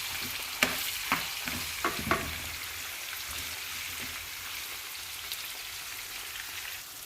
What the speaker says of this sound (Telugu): ఇప్పుడు వీటిని బాగా కొంచెం మిక్స్ చేసుకుందాం.